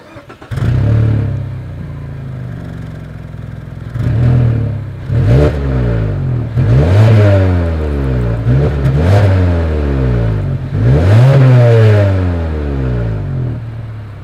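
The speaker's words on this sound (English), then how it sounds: "As always, here is that exhaust clip." A 2020 Mazda 3 with dual exhaust outlets and chrome tips revs repeatedly from idle, five or six sharp throttle blips rising and falling in pitch over a steady low rumble, close and loud with no talking.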